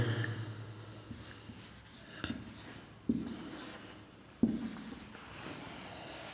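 Pen writing on paper, a few faint scratching strokes broken by louder taps and bumps, close and quiet, with a low hum underneath.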